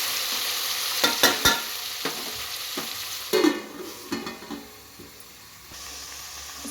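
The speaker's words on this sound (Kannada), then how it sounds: "ಇದನ್ನೆಲ್ಲ ಒಂದು ಮಿಕ್ಸ್ ಮಾಡ್ಕೊಳ್ಳೋಣ" Brinjal and peas stirred in a frying pan for vangi bath: steady sizzle with several sharp scraping clacks of the spatula, then quieter stirring, close and clear with no talk.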